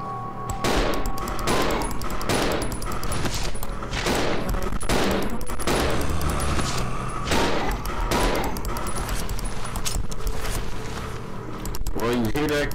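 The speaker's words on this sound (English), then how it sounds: "See if I can kill these guys with 8 bullets." Rapid repeated gunshots from the video game Resident Evil 0, a dense series of loud bursts across the clip with game sounds between them.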